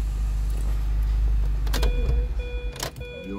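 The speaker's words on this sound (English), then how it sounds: "Let me turn the car off." A 2007 Mini Cooper is switched off: a low engine idle hums steadily, then dies away in a few uneven thumps, followed by short electronic chime tones from the car.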